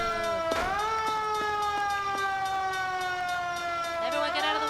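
A police car siren in the video game L.A. Noire wails continuously, its tone sweeping down and back up, loud and steady with a faint rhythmic ticking underneath.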